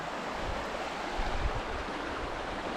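River water flowing on a hike up Ben Nevis in autumn, a soft continuous rushing wash, fairly faint and steady, with no voices over it.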